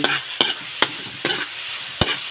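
Ground pork mince being stirred and fried in a pan with squash and string beans, a steady sizzle broken by about five sharp scraping strokes of the spatula, close and fairly loud with no talking.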